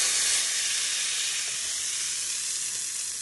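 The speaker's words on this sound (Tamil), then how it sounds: "கடுகும் பெருங்காயமும் தாளிச்சு கொட்டிடலாங்க." Mustard seeds and asafoetida crackle in hot oil as a tempering for onion chutney, a steady bright sizzle that fades slightly over a few seconds, close and alone.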